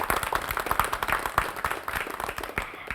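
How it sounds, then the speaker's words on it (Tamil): An audience in a packed hall claps for college students at a Thirukkural recitation event, a dense, steady patter of many hands. "கல்லூரி பிரிவு மாணவர்களுக்காக ஒரு அரங்கம் நிறைந்த கைத்தட்டல் நம்ம வந்து"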